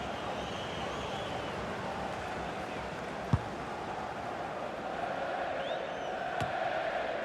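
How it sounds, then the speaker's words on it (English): Stadium crowd in the video game FIFA 20 during a Derby County versus West Bromwich Championship match, a dense continuous roar of distant cheering that swells slightly toward the end, with a couple of faint thuds. "the crowd were on their feet."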